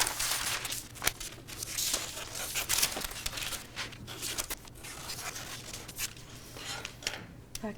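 Scissors snipping and fabric rustling as a skirt panel is cut out and notched, a quick run of close, soft crisp cuts and crinkles against a faint steady hum.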